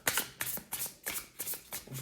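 Playing cards are shuffled in a quick series of soft riffling bursts, close by and fairly quiet, with no talk over them.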